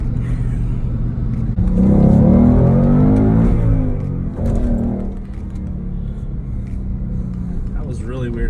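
Fast car accelerating hard on a test drive, engine rumble swelling as it pulls through the gears and then settling to a steadier cruise, heard from inside the cabin with people talking over it.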